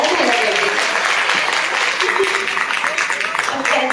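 Audience at a small music stage program breaks into loud, sustained applause, dense clapping filling the room throughout with a voice faintly mixed in.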